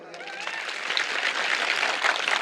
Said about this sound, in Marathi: एकदा पुन्हा जोरदार टाळ्या होत्या